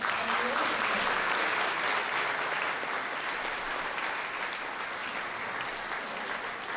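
An audience at a veterans' dinner gives sustained applause, a dense steady clatter of many hands clapping that fills the room and holds evenly throughout.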